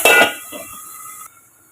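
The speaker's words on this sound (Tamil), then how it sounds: "கலந்து விட்டு ஒரு ரெண்டு நிமிஷம் நம்ம சிம்மில் போட்டு மூடிக்கலாம்" A metal lid set down on a pan of tomatoes sautéing for vegetable kurma gives one loud close clank at the start, then a fading metallic ring that cuts off.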